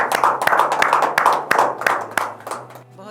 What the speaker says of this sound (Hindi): ज़ोरदार तालियों में स्वागत कीजिए समीना कमर का